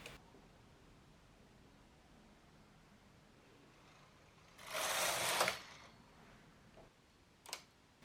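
A flatbed knitting machine carriage is pushed across a single row while knitting small pumpkins. It makes one soft swishing pass of about a second, followed by a faint click, in an otherwise quiet room.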